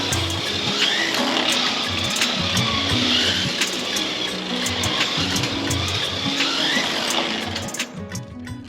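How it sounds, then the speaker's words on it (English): Small Can-Am slot car lapping a track, a steady high electric motor whine with tire buzz that holds loud and even throughout, easing slightly near the end. "the car's going pretty good around the track"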